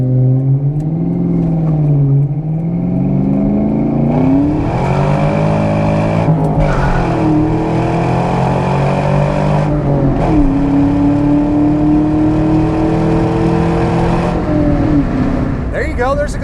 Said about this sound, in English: You can break the tires loose if you really get in the throttle like that.